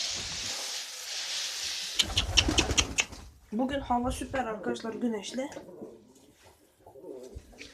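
Pigeons coo in a loft, a run of soft throaty calls after a brief burst of wing flapping, while a person talks over them.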